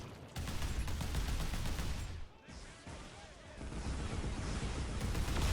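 Heavy, continuous gunfire and artillery in a Warhammer 40k battle between Imperial Guard and Chaos forces, a dense, roaring barrage that dips briefly midway before surging again.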